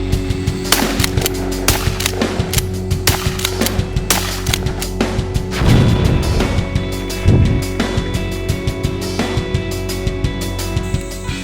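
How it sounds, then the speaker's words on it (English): Shots from a Weatherby PA-08 pump-action shotgun on an outdoor range, several booming reports spread over a steady background of clicks and handling noise; no voices. "We're going to test out the chokes on this Weatherby PA-08 pump action shotgun."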